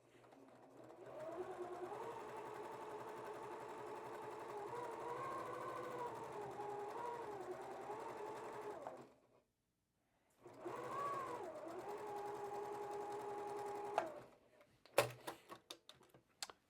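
A sewing machine runs a long, steady seam on a quilt block, stitching continuously at an even pace for several seconds, pausing briefly, then resuming before stopping with a few soft clicks and handling noises.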